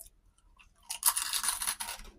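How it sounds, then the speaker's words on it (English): Crunchy kettle-cooked potato chips are bitten and chewed close up, a burst of dry crackling crunches lasting about a second after a quiet start, with no talking. "These are the kettle cooked, so they're like super crunchy."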